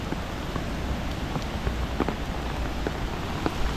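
Steady, dense rain falls beside a river during a fishing outing, a continuous close hiss with scattered heavier drops pattering through it and no voices.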